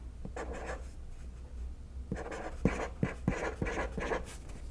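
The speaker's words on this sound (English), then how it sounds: "So I'm gonna write down" A marker squeaks and scrapes across paper in short bursts of strokes, a brief opening scribble followed by a busier run of quick, close strokes in a quiet room.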